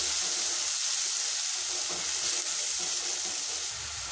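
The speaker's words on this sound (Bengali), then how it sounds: "মশলাটা কিছুক্ষণ ধরে গ্যাসটা একটু কমিয়ে দিয়ে ভালো করে কষিয়ে নিচ্ছি।" Ground spice paste for an egg curry fries on low gas with a steady, dense sizzle close by. Faint stirring scrapes sit under the crackle, and no one speaks.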